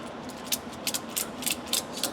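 A ratchet strap is cranked tight on a roll cage build, giving a quick series of sharp metallic clicks in an uneven rhythm, fairly close and quiet.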